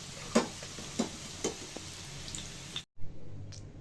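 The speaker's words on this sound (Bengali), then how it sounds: "এইভাবে আমি মুচমুচে করে গোল্ডেন কালার করে ভেজে নিয়েছি মিডিয়াম জাল রেখে" Dal fritters (dal bora) fry in hot oil over medium heat until crisp and golden. A continuous close sizzle is broken by a few light spoon taps and a brief gap near the end.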